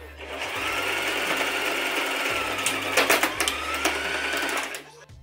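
A sewing machine whirs loudly and steadily while stitching a hood to the neck of a homemade hoodie, with rhythmic needle clatter, then stops abruptly near the end.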